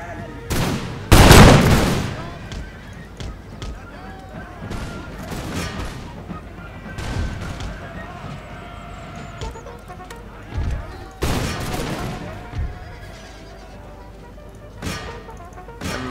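Musket volleys crack out in Empire: Total War, a battle game with Darthmod, with one loud fusillade early and scattered shots and bursts throughout, some near and some distant, under light talk.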